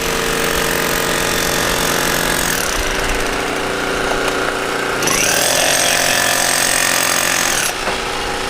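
A jackhammer breaks rock at a dinosaur dig quarry in Utah, pounding loudly and continuously at close range, its tone shifting abruptly as the bit bites into new spots.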